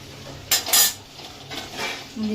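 A lid set over a pan of cooking greens, a couple of close metallic clanks and rattles followed by a quieter scrape, with no talking.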